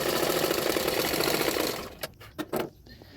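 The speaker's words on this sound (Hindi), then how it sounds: "कटोरी को इस पार्ट को इसी तरह से सिलाई करूँगी।" Sewing machine stitching the cup pieces of a bra-cut blouse together, a steady dense whirr for under two seconds that stops, followed by a few short separate bursts of stitching.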